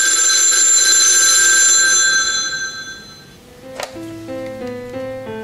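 A phone rings loudly with a bright electronic trill that then gives way to a short melodic ringtone-like run of tones, with no voices.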